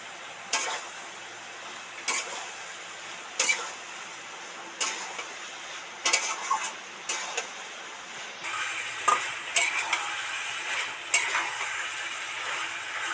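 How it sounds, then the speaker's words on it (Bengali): Ground spices such as cumin, coriander and chilli fry in oil for a katla fish curry. A soft sizzle runs underneath regular, distinct scrapes and knocks of a spoon stirring the pan, repeating every second or so, with no speech. "এবার নেড়ে চেড়ে ভালো করে মিশিয়ে দেবো"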